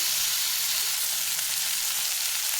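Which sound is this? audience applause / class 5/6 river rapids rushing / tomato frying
tomato frying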